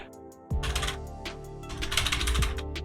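Hard, fast typing on a computer keyboard: dense clusters of sharp clacks and rattling key strikes starting abruptly after a brief quiet moment, continuous and fairly close, with occasional heavier thumps.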